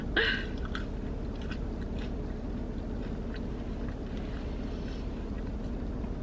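Close, moist chewing of Taco Bell fries dipped in chipotle sauce, with a brief crunchy bite at the start and then soft steady mastication over a constant low background hum, no talking.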